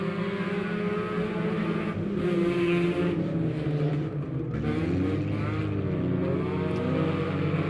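Race cars roar off at a green flag start at Lebanon Midway Speedway, several engines droning and rising in pitch together, loud and sustained, with layered overlapping revs from the pack.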